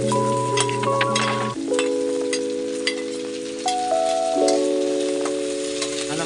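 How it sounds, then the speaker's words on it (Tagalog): Pechay and soy beans stir-fried in a pan give a steady sizzle with occasional stirring, under prominent background music with sustained tonal notes. "Halo-haloin lang natin hanggang sumaluto siya."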